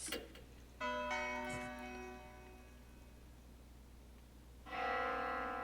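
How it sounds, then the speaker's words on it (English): A ringing bell in the horror video game Death Mark 2 sounds twice. Each stroke has a bright attack and a long shimmering tone that fades slowly, with no voices heard. "Sound of a bell suddenly echoes in my mind."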